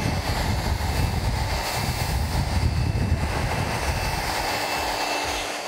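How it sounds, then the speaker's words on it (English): A hair dryer blows steadily and loudly while hair is blow-dried with a round brush, a continuous broadband rush with no talk over it. "I've gone through and I've finished and I've blow dried it now"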